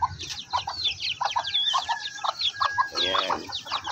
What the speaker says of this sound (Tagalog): Super active ng mga sisiw na yan.